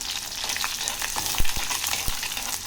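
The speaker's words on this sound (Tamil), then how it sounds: "ஒரு மண்சட்டியில் 1 டேபிள் ஸ்பூன் எண்ணெய் விட்டுட்டு, எண்ணெய் நல்லா காஞ்சதுக்கப்புறம் கொஞ்சம் கடுகு, வெந்தயம், சின்ன வெங்காயம், ஒரு 10லேருந்து 15 பல்லு பூண்டு சேர்த்து நல்லா வதக்கிக்கோங்க" Mustard seeds, fenugreek, shallots and garlic fry in hot oil in a clay pot, giving a steady, close sizzle broken by a few sharp pops and stirring clicks.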